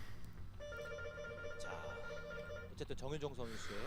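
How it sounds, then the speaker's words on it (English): A phone rings with a steady electronic tone pattern lasting a couple of seconds, faint and in the background, while someone talks over it. "And I have a phone call, which I will ignore since it's not my phone."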